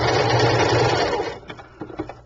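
A sewing machine runs in a steady, loud burst of stitching while making a shabby chic sachet bag, then stops. A few short clicks and taps follow, likely from the back stitch and repositioning.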